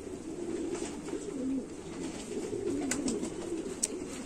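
Pigeons coo softly in a steady low murmur, with a few faint sharper noises near the end.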